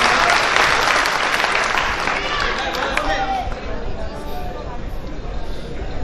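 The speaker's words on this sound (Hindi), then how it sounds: "एक बार इन लोगों के लिए तालियां बजाएं" Audience at a mushaira poetry gathering in Amalner, Jalgaon applauds loudly and steadily, thinning slightly toward the end, with crowd murmur mixed in.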